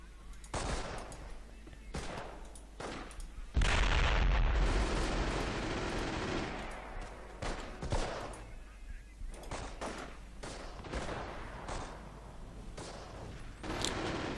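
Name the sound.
mortar barrage in Company of Heroes video game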